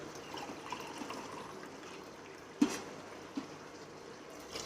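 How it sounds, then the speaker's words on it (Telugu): Water poured from a glass into a pot of rice and masala for mushroom biryani, a soft close trickle with a couple of small splashes over a few seconds. "మనం 4 glass బదులు 3 glasses ఆఫ్ వాటర్ వేసుకున్నాం."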